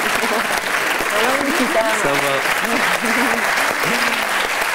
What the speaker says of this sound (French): On applaudit son petit frère.